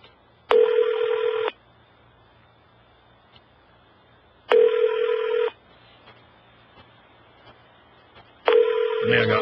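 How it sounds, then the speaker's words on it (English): Telephone touch-tone dialing heard as three short bursts of keypad tones, about four seconds apart, over a faint background hum, placing a call live on air. "You can let them hear the dialing."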